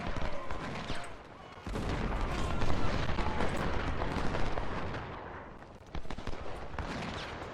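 Musket volleys and artillery fire in the Ultimate General: Civil War video game, dense overlapping cracks and booms rolling continuously with brief lulls, loud and close throughout.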